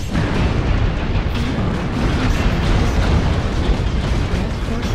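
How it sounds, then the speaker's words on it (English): Airstrike in the MechWarrior Online video game during a 2017 world championship match, a dense rumbling barrage of booming explosions filling the whole stretch, loud and continuous. "Airstrike."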